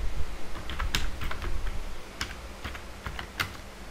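Someone types on a computer keyboard in a quick, uneven patter of key clicks, with a few louder strikes like a space bar or enter key. The typing is close and clear, with no speech.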